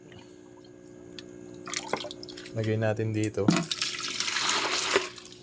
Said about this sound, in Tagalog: Kuha lang tayo ng tubig.